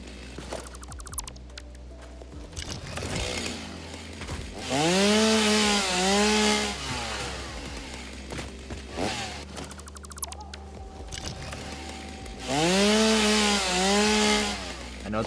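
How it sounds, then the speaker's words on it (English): Chainsaw in the video game Satisfactory cutting through paleberry bushes, two loud sustained revving bursts of cutting separated by quieter idling, with no talk. "Let me see if I can chainsaw these things."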